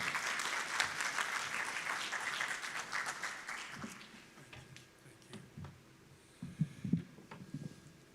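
An audience at a doctoral alumni reception claps steadily for several seconds, the applause gradually thinning out into scattered claps and a few soft bumps.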